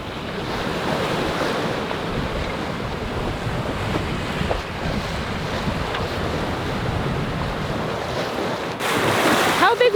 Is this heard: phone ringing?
no